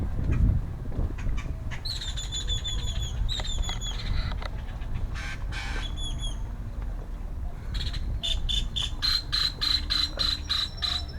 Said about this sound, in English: It's the grackles. They imitate all other birds.